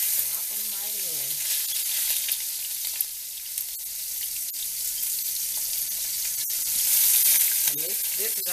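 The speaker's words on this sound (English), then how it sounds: "Because you see they already frying up" Asparagus sizzles and crackles steadily in a hot pan, a close bright hiss with occasional pops and a few soft clinks.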